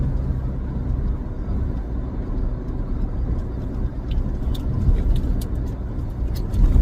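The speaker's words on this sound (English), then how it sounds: "I'm driving in kind of like the truck lane" A car drives along a road in Thailand from Phayao to Chiang Rai, with a continuous low engine and road rumble, steady and fairly loud, plus faint ticking clicks near the end.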